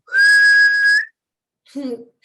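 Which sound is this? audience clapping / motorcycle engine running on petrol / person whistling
person whistling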